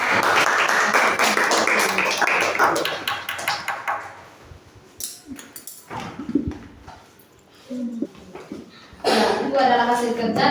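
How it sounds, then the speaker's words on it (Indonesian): A classroom group gets applause, with a burst of clapping that fades, quieter scattered sounds and voices in between, and then clapping picks up again near the end. "Oke, berikan tepuk tangan untuk kelompok."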